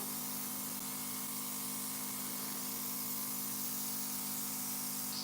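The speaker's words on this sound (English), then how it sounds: "I used to think that you couldn't airbrush buttercream, but you can" An airbrush sprays coloring onto a buttercream-frosted cake, a steady, close, unbroken airy hiss with a faint compressor hum underneath, constant in level throughout with no pauses.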